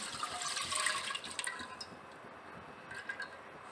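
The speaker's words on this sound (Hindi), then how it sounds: "मिल्क ऐड करेंगे।" Milk poured into a pan on the stove for a fruit dessert, a splashing liquid stream that is strongest early and then tapers into lighter trickles and a few clinks.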